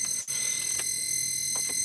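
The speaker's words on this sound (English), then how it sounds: "I got used to the beeping." Electronic beeping sounds as a continuous, shrill, steady tone with a very brief break near the start. It is loud, close and alone, with no talking.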